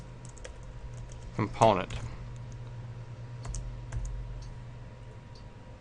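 Keys clatter in quick, uneven bursts as code is typed into Visual Studio 2010 on a computer keyboard, with a brief spoken word partway through.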